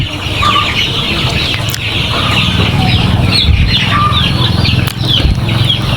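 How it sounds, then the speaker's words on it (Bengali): Young layer chicks on a poultry farm raising thousands of laying hens give a dense chorus of high chirps and soft clucks, with occasional wing flutters, close and continuous over a low background hum. "লেয়ার মুরগির বাচ্চাগুলা"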